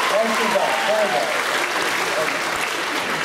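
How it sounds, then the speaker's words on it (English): An audience at a live stage show breaking into steady applause, a dense wash of clapping that holds at a fairly even level, with a voice speaking faintly over it. "And the audience will applaud."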